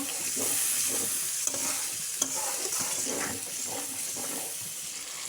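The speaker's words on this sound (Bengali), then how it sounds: "এখন এই যে কষানোর জন্য একটু পানি দিয়ে দিচ্ছে।" Masala for a bele fish chorchori sizzles in a pan after a little water is added, with a steady close hiss and repeated scraping stirs throughout and no talking.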